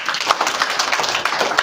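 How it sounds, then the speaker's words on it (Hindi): A school audience claps together in a dense burst of applause, with quick, uneven claps sounding close and loud throughout. "उसरवास स्कूल के लिए ताली बजाएं।"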